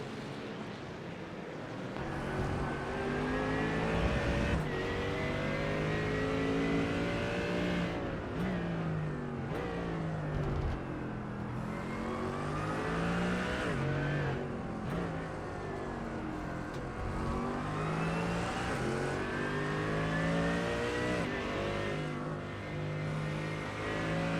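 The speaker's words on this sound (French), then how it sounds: "Pichette devant dans la McLaren noire, suivi de Marc-Antoine Côté" GT3 race cars, including a black McLaren, race at Okayama in a racing video game. Engines whine continuously, with pitch climbing and falling through gear changes as the cars pass close. No one speaks.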